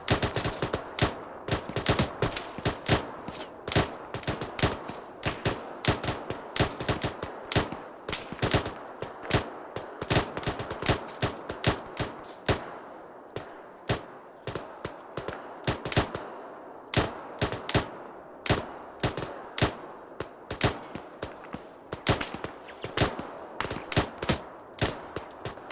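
Rapid, sustained gunfire from a squad engaging new contact about 50 meters ahead during a long patrol operation, a dense rattle of close, loud bursts and overlapping shots running nearly continuously with only brief lulls.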